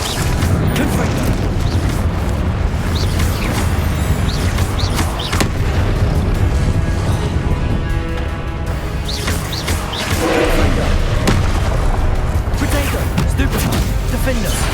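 Confringo blasting-curse explosions in Hogwarts Legacy on Xbox Series X boom again and again, loud and continuous, layered with game combat effects and music throughout.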